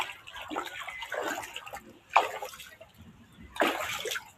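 Feet splashing and stepping through shallow rainwater pooled after a short rain shower, with three or four soft wet splashes spread over a few seconds, fairly close and moderately loud.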